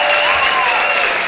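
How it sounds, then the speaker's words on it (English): A large graduation ceremony audience claps steadily for the Columbia University Jazz Ensemble, a dense, loud wash of applause filling the hall without a break. "I'd like an applause for the Columbia University Jazz Ensemble."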